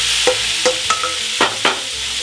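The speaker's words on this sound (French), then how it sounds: "Le thon dans la poêle." Tuna pieces going into a very hot pan around 244 °C, a steady sizzle broken by several short scraping stirs and clinks, close and fairly loud, no talk.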